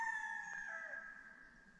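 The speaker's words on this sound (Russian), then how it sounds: "Я не знаю, как я буду спать с этими петухами" Roosters crow in Old Muscat, Oman, with one drawn-out crow sounding faint and distant over a quiet, steady background.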